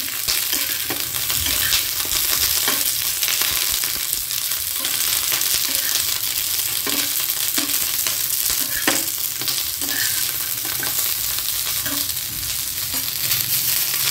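Garlic and green chillies roast in a pan for a garlic tadka bhakri, a continuous loud sizzle with occasional scrapes and light knocks of stirring throughout.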